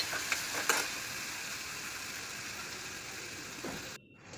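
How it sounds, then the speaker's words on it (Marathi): Onion, ginger-garlic paste and salt frying in hot oil for a spicy dried-fish dish, a steady close sizzle with a few brief stirring knocks near the start, cutting off abruptly at the end. "मीठ घातल्यानंतर चांगलं परतून घ्या"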